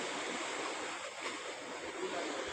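Sea waves rolling in at Jeddah beach, a dense continuous wash of surf heard close and fairly loud, with no voices over it.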